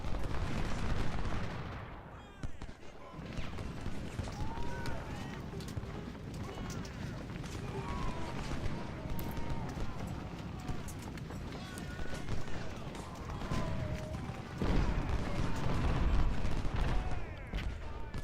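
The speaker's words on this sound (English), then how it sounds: "Oops, that's the guns." Civil War artillery guns in Ultimate General: Civil War thud repeatedly in the distance, muffled booms scattered through a dense battle din, with a louder rumble near the end and a voice talking over it.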